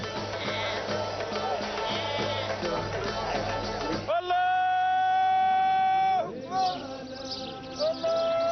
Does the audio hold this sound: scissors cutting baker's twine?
no